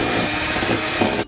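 An electric hand mixer whirs loud and close as it beats heavy whipping cream with vanilla and sweetener in a bowl, a dense steady buzz that cuts off abruptly at the end.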